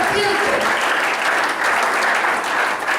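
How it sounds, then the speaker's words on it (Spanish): A church congregation applauds during a sermon, a dense sustained clapping from many hands that stays loud and even for the whole stretch. "Si ofrenda aplausos al Señor, hermano."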